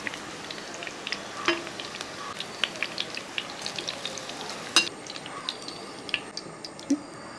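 Okra fries in hot oil with a soft, steady sizzle and scattered pops and crackles, heard close and alone at moderate volume.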